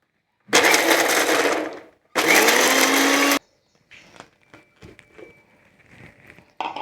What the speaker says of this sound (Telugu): ఇప్పుడు ఇది మిక్సీ పట్టుకుందాం.